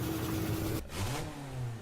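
A Honda S2000 with a K20 engine revs loudly, a mid-pitched engine rising and falling in pitch with a short dip before climbing again, close and alone.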